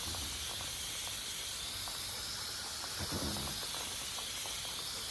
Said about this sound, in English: Let me go ahead and water these as well. And I just have it on mist.